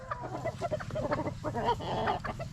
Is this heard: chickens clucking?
yes